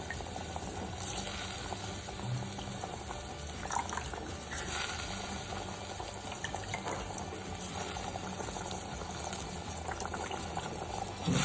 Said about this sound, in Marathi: मस्तपैकी तसा हा शिजतोय.